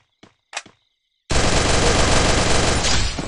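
Rapid automatic gunfire in the Garena Free Fire battle game, one loud sustained burst of two seconds after two short faint blips, close and dense with no talk.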